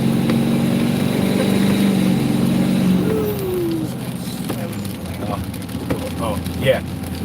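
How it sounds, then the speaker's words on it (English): A diesel engine drones steadily while the vehicle drives, a low continuous rumble heard from inside, with some talk. "So you guys get to hear the diesel."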